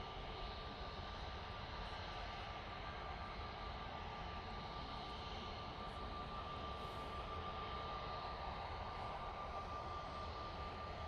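A Juneyao Airlines airliner in Chinese ribbon livery, bound for Shanghai at Manchester Airport, makes a faint, distant, continuous engine drone with a thin steady whine running through it.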